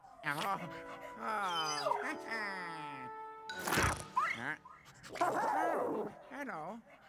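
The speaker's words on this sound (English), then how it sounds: "Good dog." A dog in the video game Luigi's Mansion 3 whimpers and yips in high, wavering cries, several short bursts spread across the stretch, loud and close.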